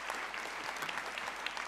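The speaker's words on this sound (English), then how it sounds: "can we please give him a round of applause?" A conference audience at a future-of-work dialogue session gives a round of applause, an even wash of many hands clapping at moderate volume throughout.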